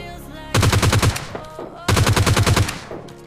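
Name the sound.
gunfire in the video game PUBG Lite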